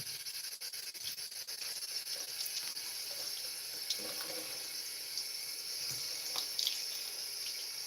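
Tap water runs steadily while a pet cockatiel is bathed in a sink, a continuous hissing splash with occasional rubbing and splashes as the bird is washed.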